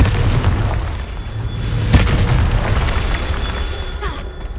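A Confringo fire spell explodes in Hogwarts Legacy gameplay, a sharp blast near the middle over a constant loud rumble of game sound, with no one speaking.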